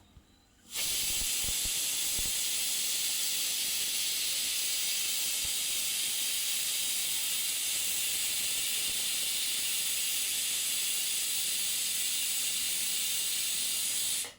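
A loud, continuous steam whistle hisses from a pressure cooker, starting abruptly and holding steady for many seconds before cutting off.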